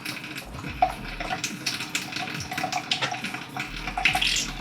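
Water running and splashing as a Staresso portable espresso maker is rinsed under a tap, a steady close wash with a few small clinks and knocks.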